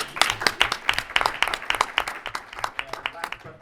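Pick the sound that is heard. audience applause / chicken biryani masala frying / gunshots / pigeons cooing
audience applause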